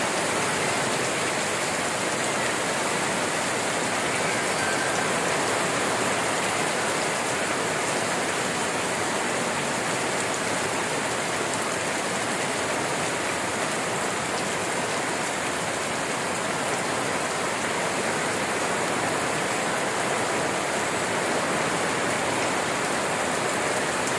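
Heavy rain pours down steadily, a dense, even hiss that continues without letting up.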